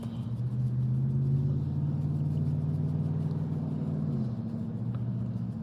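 Steady low engine and road rumble inside a moving car, continuous and fairly loud throughout with no talking.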